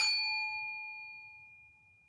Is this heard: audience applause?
no